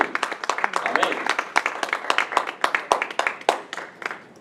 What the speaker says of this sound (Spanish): el pueblo de Dios les da una ofrenda de aplausos